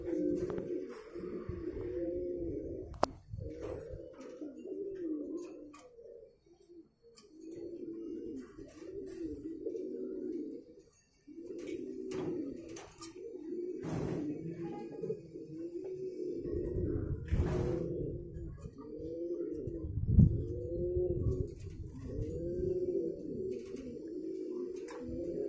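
Male pigeon cooing inside a nest box, a steady series of deep, rolling coos repeating close by for the whole stretch, with a brief pause midway.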